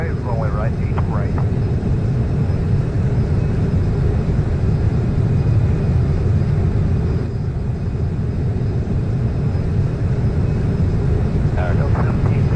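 A Delta airliner takes off from runway 8 right at Atlanta, its steady loud jet roar rumbling continuously throughout while air traffic control radio chatter cuts in near the start and end.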